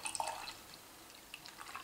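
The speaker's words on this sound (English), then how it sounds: "So here was the pour." Harviestoun Wild Hop Gold, a Scottish golden beer, being poured, a faint liquid trickle with small splashes and fizzing, quiet and close with no speech.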